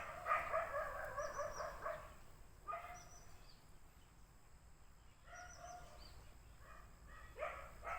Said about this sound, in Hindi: इन कुत्तों की आवाज सुन रहे हैं आप?